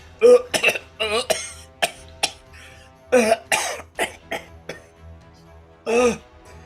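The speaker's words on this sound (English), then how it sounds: "You can cough all you want, but that marshmallow is stuck in your throat." Repeated harsh coughs and throat-clearing bursts in uneven clusters, close and loud, with gasping breaths between.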